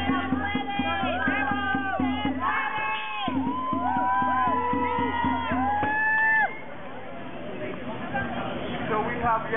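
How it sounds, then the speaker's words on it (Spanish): Crowd at a renters' rally cheering and whooping with lots of overlapping shouting voices and some clapping, lively and close throughout, easing off toward the end. "Así que denle un aplauso."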